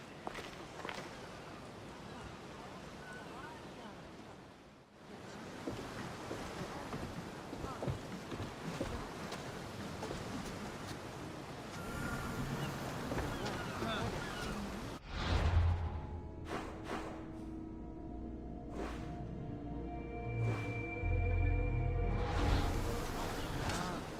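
A sailing ship at sea in Assassin's Creed Odyssey: steady wind and water rush with creaking and footsteps on deck, shifting midway to calmer open-water ambience with wooden creaks, no talk.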